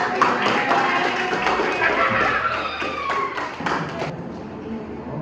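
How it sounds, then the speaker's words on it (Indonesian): An audience at a talk on frugal living claps together, a dense patter of hand claps under a busy room, with voices mixed in before the clapping trails off near the end. "Kasih tepuk tangan dong."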